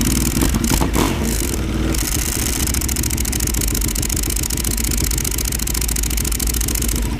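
Powerful custom-built race motorcycle ridden around the block, its engine revving hard at first and then settling into a steady, rapid rumbling beat close by.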